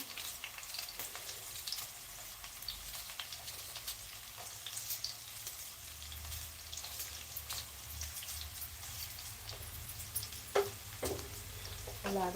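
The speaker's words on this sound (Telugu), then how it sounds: "ఆవాలు జీలకర్ర కూడా వేస్తున్నాను" Mustard seeds and cumin frying in hot oil in a pan give a steady close crackle and patter like light rain, with occasional sharper pops near the end and no voices.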